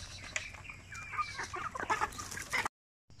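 Chickens raised for sale cluck and chatter close by in a farmyard, a busy run of overlapping short clucks and squawks that rise in activity before breaking off abruptly into silence.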